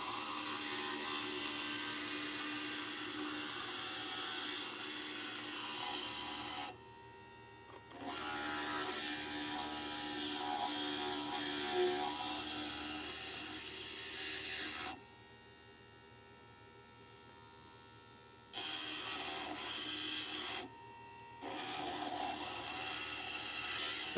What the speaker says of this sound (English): I'll normally just finish those off right here on the grinder, get it right up against that pattern